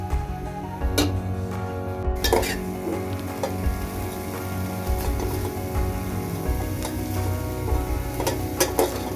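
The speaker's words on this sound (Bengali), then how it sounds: "এবার এগুলোকে একটু নেড়ে চেড়ে ঢাকনা দিয়ে রাখবো যতক্ষণ পানি শুকিয়ে আসবে।" Dried shrimp with chopped chili and salt stirred in a pan over steady sizzling, with scraping spoon strokes and occasional clinks of utensil against metal, close and moderately loud throughout.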